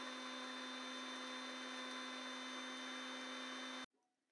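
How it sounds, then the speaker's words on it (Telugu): Mixie grinding green chillies, garlic and salt into a coarse paste: a loud, steady, high-pitched motor whine that runs unbroken for nearly four seconds, then cuts off abruptly into near silence. "కొంచెం సాల్ట్ వేసి మిక్సీ అయితే పట్టించేద్దాం."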